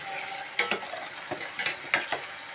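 Potato pieces fry in oil with a steady low sizzle, broken by several sharp scraping clinks of a utensil stirring in the pan.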